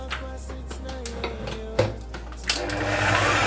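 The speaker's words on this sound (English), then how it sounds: "I am going to put this already in the whisk machine for it to whisk a little bit." An electric whisk machine runs steadily, mixing an oatmeal and honey bread batter with vinegar and coconut oil, a close mechanical whir with a few clatters and bumps that grows louder toward the end.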